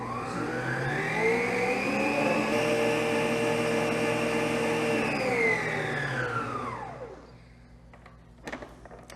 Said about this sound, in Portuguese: nesse momento, a gente aumenta a velocidade da batedeira